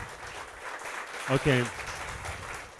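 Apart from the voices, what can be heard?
audience applause for a speaker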